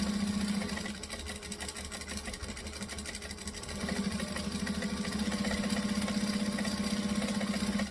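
A sewing machine stitches fabric in steady fast bursts, a close mechanical whir with rapid needle clatter, pausing briefly in the middle before running again.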